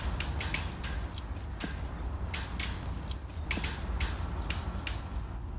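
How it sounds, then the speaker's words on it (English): Wire cutter snipping through wire mesh while building a beaver cage, a series of sharp metallic clicks at irregular intervals over a steady background hum. "the next step will be just cutting down the wire with the wire cutter all the way through the bottom"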